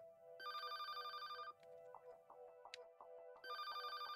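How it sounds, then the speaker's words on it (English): Electronic phone ringtone in the video game Paper Lily, two bursts of bright trilling rings separated by a pause with soft tapping sounds over a faint background tone. "Phone is ringing. Pick it up."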